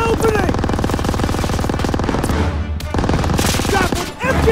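Dense, continuous machine gun fire from the World War II shooter Call of Duty WW2, loud and rapid with overlapping bursts and gunshots and only a brief dip near the end.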